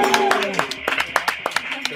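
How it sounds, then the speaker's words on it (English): Applause from a small audience at a live radio music session, a handful of separate claps ringing out over lingering instrumental tones and some voices, thin and sparse rather than a full ovation. "we gotta do the applause one more time"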